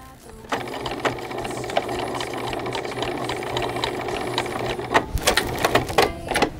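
A sewing machine stitches fabric with a steady mechanical whirring and ticking rhythm, close by, and a few sharper clicks near the end.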